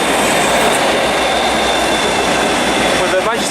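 Train hauled by class 57 locomotive 57306 on a Manchester railway inspection run, passing close by Warrington Bank Quay on the West Coast Main Line with a loud continuous rumble, wheel noise and a brief squeal near the end.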